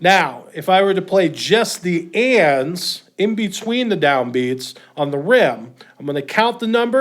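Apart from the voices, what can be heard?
No distinct noise like a dog, phone or traffic.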